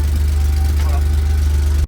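A freshly rebuilt Alpine car engine runs steadily with a constant deep hum, close and loud, holding even until it cuts off abruptly at the end.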